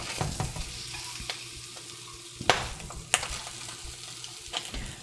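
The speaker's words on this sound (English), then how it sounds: "you'll hear it sizzle as those non-brown parts come in contact with the pan" Spam frying with a steady sizzle, with scraping and a few sharp clatters of a utensil against a pan, close up.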